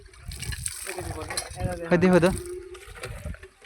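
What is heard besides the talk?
water flowing from a pipe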